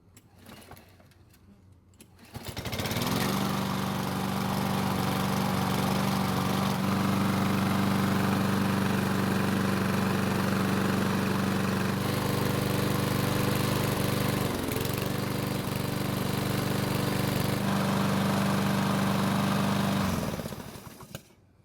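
A Toro lawn mower engine sputters to life and runs steadily for a long stretch with a low, droning hum, then shuts off.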